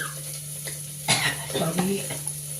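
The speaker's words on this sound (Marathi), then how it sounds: "लगेच कांदा टाकते कारण फोडणी खचकायला लागली." Chopped onion drops into hot oil with curry leaves, bursting into a loud sudden sizzle midway that keeps crackling and hissing as the pan is stirred, with a faint cough-like sound near the start.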